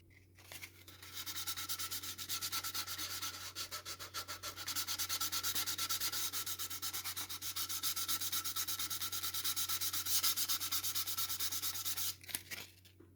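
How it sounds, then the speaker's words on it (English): Close, steady rubbing of sandpaper along a seam of an Airfix SLS Artemis plastic model kit, a continuous rhythmic scraping that runs for several seconds before stopping, with a low hum underneath. "I'm just going to sand the seam back just to get it as smooth as possible"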